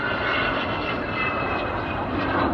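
Avro Vulcan XH558 bomber flying at an air display, a loud, steady, broadband engine roar that fills the whole clip without a break.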